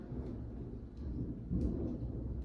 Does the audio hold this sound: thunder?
yes